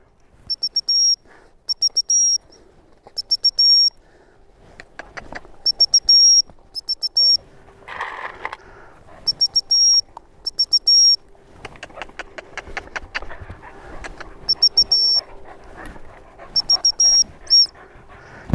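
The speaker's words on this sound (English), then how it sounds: "As soon as I use this whistle, let's see how quickly she responds to it." A dog recall whistle blown in repeated short bursts and trills outdoors in the countryside, while a dog pants and whimpers excitedly nearby between the blasts.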